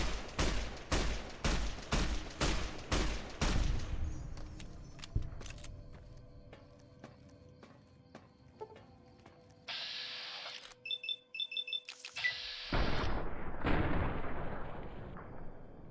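Rapid gunfire with hollow point rounds in the video game Fallout New Vegas: a quick burst of about eight loud, sharp shots, then metallic reload clicks and quieter mechanical sounds, and a final few heavy shots.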